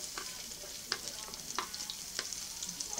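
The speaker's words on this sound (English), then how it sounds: "let's get now the onions and garlic and then saute" Garlic sautés in a pan after frying potatoes, a steady soft sizzle with a few light stirring clicks scattered through it.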